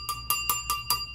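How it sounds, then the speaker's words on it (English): A Western Electric-style 220 Trimline telephone's mechanical ringer bell strikes five quick, evenly spaced rings, loud and close, with its volume damper adjusted, alone with no talk. "this is just ringer, a volume control for the ringer"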